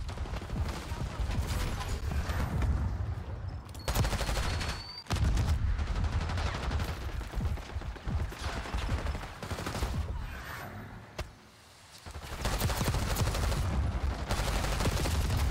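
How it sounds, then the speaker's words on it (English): Bursts of rapid video-game gunfire, loud and close, crackle through much of the stretch, with a brief lull near the end before the shooting resumes alongside mechanical clatter. "I missed all my shots"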